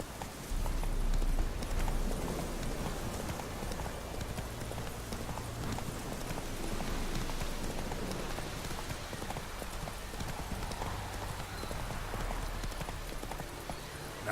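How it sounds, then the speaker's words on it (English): Horse hooves gallop in a steady clip-clop rhythm through The Witcher 3 video game, close and continuous, with faint rain-like ambience underneath and no talk. "Run, Roach."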